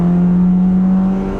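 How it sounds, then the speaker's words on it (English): A 10th-generation Honda Civic Si engine drones loudly and steadily under hard acceleration in fourth gear, its tone holding high for about a second before easing slightly, heard from inside. "Little fourth gear rip there."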